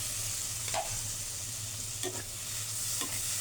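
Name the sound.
shrimp frying in spiced oil for biryani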